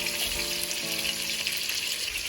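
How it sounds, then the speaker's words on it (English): Canned coconut milk pours into a hot pan while cooking Jamaican escovitch fish, raising a loud, steady sizzle and frying hiss that lasts the whole moment with no talking. "I'm going to add a can of coconut milk to that"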